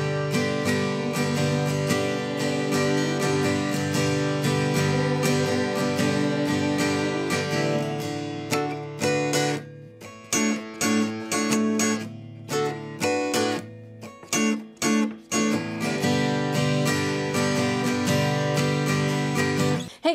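Acoustic guitar strummed in the rhythm of a song, full chords ringing in a steady pattern for about twenty seconds, with lighter choppy strokes midway before the full strumming returns, played close and alone.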